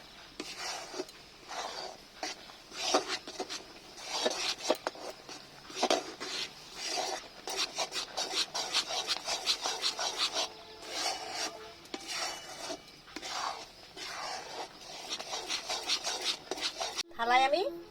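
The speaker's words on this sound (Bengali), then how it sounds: "নাড়তে হবে ভালো করে, না নাড়লে জমে যাবে।" A nut sweet mixture being stirred in a pan, heard as continuous close scraping and rubbing strokes in a steady rhythm, fairly loud and alone with no talk, ending in a brief sharper scrape.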